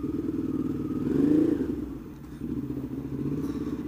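A Ducati Hyperstrada motorcycle engine idles and rumbles on a slow test ride, its tone briefly rising as the throttle opens and then settling back to a steady, nearby drone.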